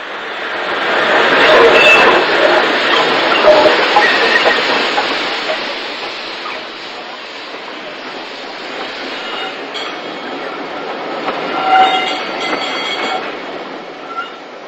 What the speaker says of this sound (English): is the 10:05 summer Saturday Bournemouth to Derby, passing a 4F waiting to come onto the rear of the train